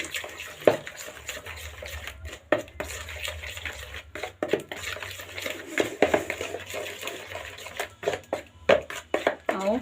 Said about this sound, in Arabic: هنقلب بقى المكونات دي كلها كده